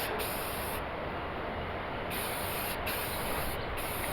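A steady aerosol spray of white paint hisses close by on a 1970s–80s Dodge truck cowl, with short breaks where the nozzle is released and pressed again.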